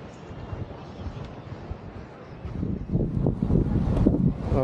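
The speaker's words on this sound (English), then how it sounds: "It's a bit windy, guys, I'm sorry." Wind buffets the microphone in low, rumbling gusts on the Atlantic City boardwalk in New Jersey, swelling louder and rougher toward the end.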